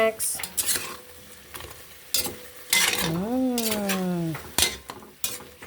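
Pork sinigang being stirred in a pot: close metallic scrapes and clinks of a spoon against the pot over a light sizzle, with a brief meow-like cry partway through.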